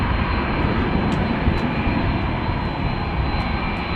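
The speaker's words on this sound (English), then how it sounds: "the engines are pointing towards us, getting much louder" Loud, steady roar of jet engines from a KLM Boeing 737 close by at Amsterdam Schiphol Airport, engines pointing toward the listener, a broad rushing drone that stays strong and grows louder.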